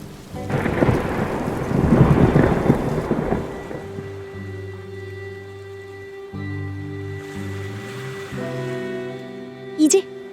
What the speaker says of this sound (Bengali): যা জোরে ঝড় বইতে শুরু করছে তাতে মনে হচ্ছে ঘরের চালটাই উড়িয়ে নিয়ে যাবে